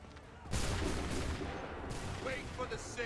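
Musket volley from a line of soldiers in the Assassin's Creed 3 video game, a loud burst of gunfire that erupts suddenly and rolls on as sustained crackling, with faint voices near the end.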